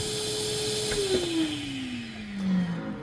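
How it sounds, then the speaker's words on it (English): A shop vacuum runs steadily nearby, its motor whine sliding lower in pitch over a few seconds while a continuous airy roar holds underneath. "So I like to keep a vacuum unit running."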